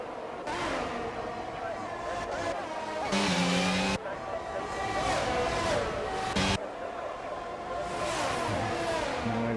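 Racing cars in a Hungary race of a racing video game, engines droning steadily throughout with brief tire screeches and a couple of abrupt cuts, while a commentator talks over the action.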